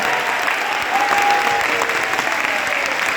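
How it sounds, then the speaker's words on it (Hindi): Loud, dense applause from a large crowd at a religious gathering in Bundelkhand, sustained and steady throughout with no pauses. "इतनी जोरदार तालियां होनी चाहिए कि राम राज्य की चर्चा कृष्ण जन्मभूमि तक पहुंच जाए।"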